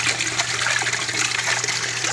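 Fountain pump splashing water inside a homemade swamp cooler built from a jug with a frozen block of ice and a cardboard baffle; a steady, close, continuous splashing trickle with a faint low motor hum underneath.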